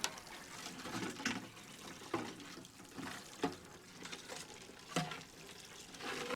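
Water from a hose or can soaking into soil around a freshly transplanted two-year-old blueberry bush, a steady splashing wash with a few louder bursts, close by and with no talk.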